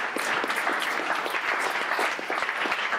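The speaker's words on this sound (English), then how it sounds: "give yourselves a hand, a round of applause." Participants at a coding event's final presentations and awards in San Francisco applaud themselves, with sustained, dense clapping from a crowd and a few sharper individual claps standing out.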